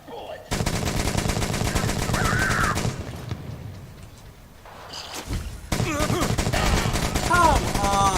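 Rapid automatic gunfire from the video game Metro Exodus, loud and sustained in two long bursts with a quieter gap between, mixed with thuds and game sound effects.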